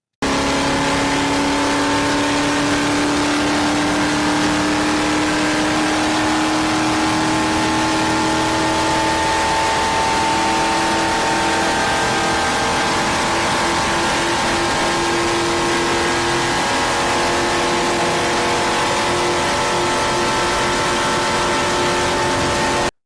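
A race car holds full throttle around the Daytona International Speedway road course, its engine a loud, sustained high drone with slowly rising pitch through the gears, continuous and close for the whole stretch without talk.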